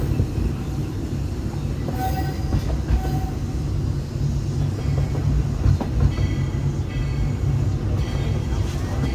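Walt Disney World Railroad steam train at Magic Kingdom pulling into Main Street Station, with a steady low rumble and wheel clatter throughout, fairly loud and close, a brief whistle-like tone and light background voices.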